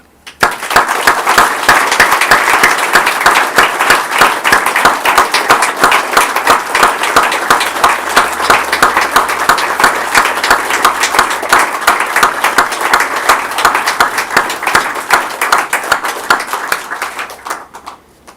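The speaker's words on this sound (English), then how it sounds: "give this lady the standing ovation applause she deserves for a wonderful life well lived" A funeral congregation gives a long standing ovation for the late Mavis Brown, dense sustained clapping from many hands swelling quickly, holding loud and steady for well over fifteen seconds, then fading out.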